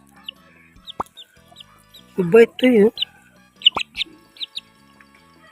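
Small high chirps and peeps scattered throughout, with a brief spoken phrase in the middle and light background noise.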